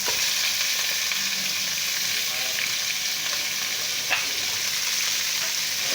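Chicken sizzling and frying in a pan with garlic powder, ginger powder and tikka masala, stirred steadily for a fajita pizza topping; a dense, continuous hiss with occasional scrapes, close and loud, no talking.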